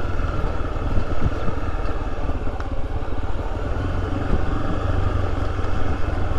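Honda XRE300 motorcycle labouring up a slippery rocky trail in low first gear, a steady close engine drone with rough low rumble throughout and no pauses.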